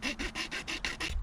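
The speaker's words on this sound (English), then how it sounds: "got a file on both sides too, so it makes it perfect for doing this, because you can sort of shave some away" A multi-tool file shaves a switch-cane wood arrow shaft in about seven even, rhythmic rasping strokes, close and clear, with no speech.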